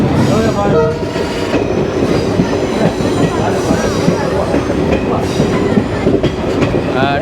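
A train rumbles past loudly and close on the Kollam–Sengottai rail route, wheels clattering steadily with metallic squeals and a brief horn-like tone near the start.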